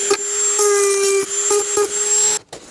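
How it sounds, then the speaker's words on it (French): Dremel rotary tool sanding a wooden ceiling beam, a steady high-pitched whine with a tonal hum that runs continuously and loud, close up, then cuts off abruptly near the end. "je prends simplement ma Dremel et je vais tout poncer"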